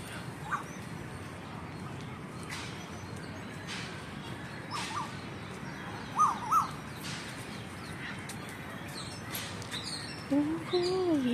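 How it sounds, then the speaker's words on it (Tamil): Male and female Asian koels call outdoors over quiet natural ambience, with a few short, separated calls midway and a longer, wavering call near the end. "இன்னும் இந்த ஆண் குயில் துரத்துக்கிட்டே தான் இருக்கு. பெண் குயில் மருகி மருகி ஓடுது."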